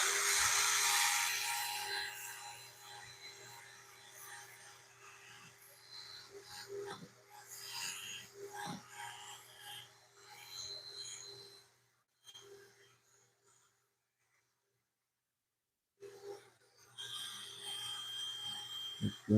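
Wooden Cypress bowl spinning on a lathe while being sanded with 400 grit sandpaper, a soft rasping rub that comes and goes in uneven passes, quiet overall, with a near-silent pause before the scratching resumes.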